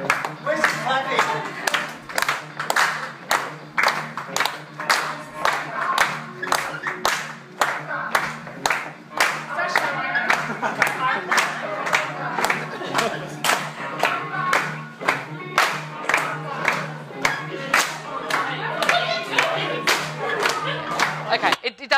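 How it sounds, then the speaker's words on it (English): An audience at an agile business conference claps steadily for over twenty seconds. The claps are sharp and closely spaced, filling the room at moderate loudness, with a voice faintly present underneath. "Where's the clapping?"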